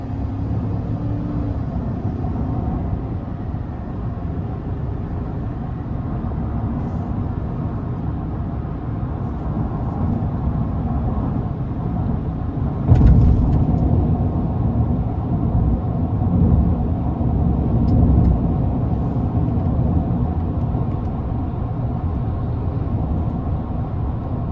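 Heard from inside the cab, a 2022 GMC Sierra 1500 SLT Crew Cab with a 5.3L engine cruises down an interstate under a steady low drone of engine and road noise, swelling slightly as throttle is added partway through.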